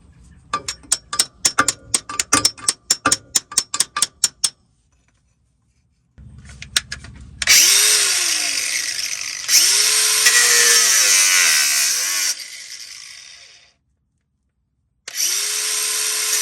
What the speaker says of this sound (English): I cut the bottom of it with the angle grinder